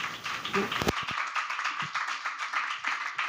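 Congregation in a church clapping together in a dense, continuous patter of claps lasting the whole moment, with a few sharper taps near the start.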